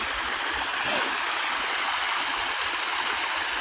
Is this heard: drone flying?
no